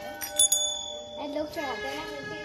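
Metal bells at a Shiva temple in Uttarakhand ring out with bright, lingering tones, several strikes overlapping, while people talk nearby.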